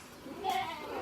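A goat lets out a single short, nasal bleat in the middle of the clip, moderately close, over a steady background murmur.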